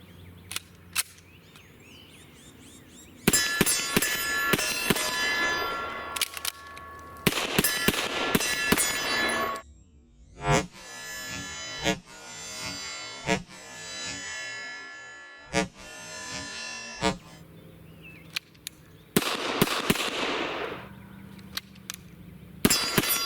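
A CZ TSO pistol fires .40 cal 180 grain rounds on a range, loud sharp shots in irregular strings with brief pauses, each crack ringing out and followed by faint clinks.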